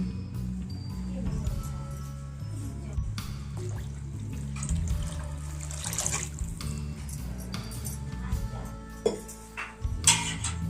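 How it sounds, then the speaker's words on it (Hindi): Water poured in a small amount into simmering kadhi made with salga bada in a village kitchen; a soft, continuous liquid trickle and splash sits among clinks and cooking noise, with no talk. "हल्का से पानी भी डालना है।"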